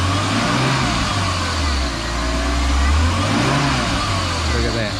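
Cold BMW M50 inline-six fitted with an individual throttle body kit fires up and revs, loud and close, its low rumble rising and falling through several throttle blips with no talk.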